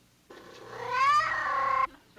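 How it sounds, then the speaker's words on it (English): A cat gives one drawn-out meow, clear and close, rising then holding for over a second before cutting off, with no talk over it. "That's a very charming cat you have there."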